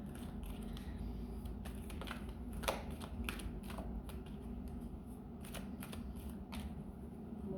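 Oracle cards being shuffled by hand in a quiet room, a steady run of soft papery riffles and taps with a low background hum, no talking.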